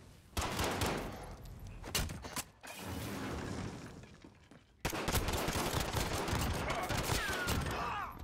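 Gunfire in Call of Duty Modern Warfare: bursts of automatic shots with mechanical clatter, a brief lull, then a dense, loud barrage that runs to the end, with faint voices underneath.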